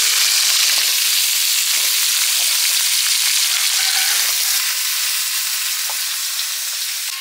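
Potato pieces sizzling loudly in hot oil left over from frying salted sea fish, a dense, crackling hiss that holds steady throughout with a few soft stirring knocks.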